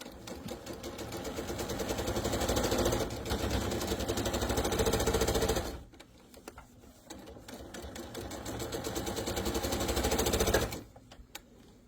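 A sewing machine stitches down a pillowcase cuff in two long, loud runs of rapid mechanical chatter separated by a brief quieter pause, with no talk.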